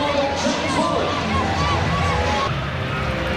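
Stadium crowd noise at a night football match in the Hunter as Newcastle Jets and Queensland Roar take the field, a broad steady murmur and swell of spectators under a commentator's voice.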